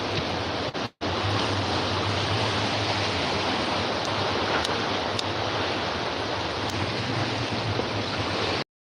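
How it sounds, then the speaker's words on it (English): Steady roar of wind-driven rain from Hurricane Milton, dense and continuous with a low rumble underneath, broken by one brief dropout near the start. "As you can see, it is windy and rainy here."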